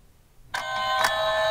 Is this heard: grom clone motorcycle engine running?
no